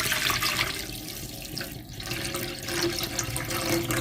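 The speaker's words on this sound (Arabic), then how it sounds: "هتزودي بتاع لتر ميه" Water pours steadily from a tap into a cooking pot for yellow lentil soup, a continuous gushing splash with a slight gurgle, close and moderately loud without talking.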